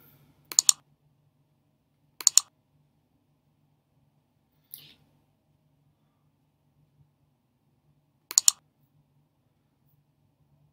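A computer mouse clicks in quiet during video editing, mostly in quick double clicks spaced a couple of seconds apart plus one faint single click, crisp and close against near silence.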